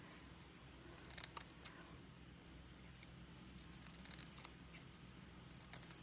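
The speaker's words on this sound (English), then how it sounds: "Okay, so I'm going to snip into this one as well." Scissors snip into a sheet of card while a handmade greeting card is being made, giving a few soft, faint cuts near the one-second mark and scattered light ticks later over a steady quiet hiss.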